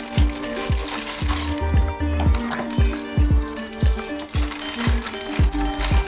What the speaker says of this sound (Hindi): जो मैंने पैटीज बना के रखी थी बीफ की, वो मैं इसमें डाल दूँगी और इसको मीडियम, इसको मैं लो फ्लेम पर मैं इसको फ्राई कर लूँगी